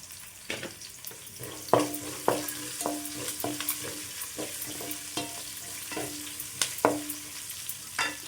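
Curry leaves frying over medium flame in a pan for a tomato and beans curry, giving a steady sizzle broken by sharp crackles and stirring scrapes, close up, with no talking.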